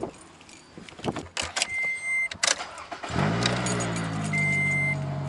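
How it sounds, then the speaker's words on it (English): A Volkswagen Jetta with no muffler starts up after keys jangle and a door clunks, its engine catching at once and settling into a loud, raw, rumbling idle that carries on to the end. "I'm gonna start my car. Question mark because it has no muffler."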